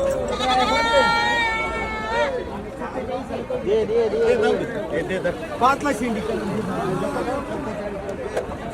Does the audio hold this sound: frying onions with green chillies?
no